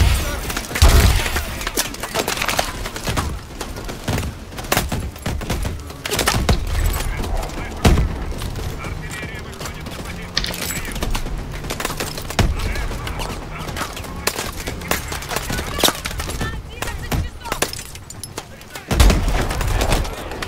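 Heavy artillery fire and gunfire in Call of Duty Advanced Warfare: repeated sharp blasts and rapid automatic bursts, loud and dense throughout, with booming impacts and a voice speaking at times.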